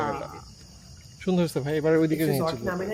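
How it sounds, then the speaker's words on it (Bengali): Crickets chirp in a natural eco resort setting as a thin, steady high drone that runs through the whole stretch, faint in the background while people talk over it. "এই জায়গাটাতে চারিদিকে ঝিঝি পোকার সাউন্ড,"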